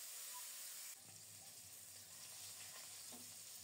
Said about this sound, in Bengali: মাছের পিসগুলো উল্টে পাল্টে খুব সুন্দর মতো ভেজে নিয়েছি